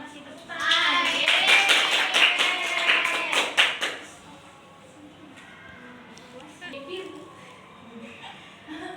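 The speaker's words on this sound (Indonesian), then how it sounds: "Oke, terima kasih tepuk tangan." Students in a classroom clap their hands together in a dense burst lasting about three seconds, then it fades; talk is heard before and after.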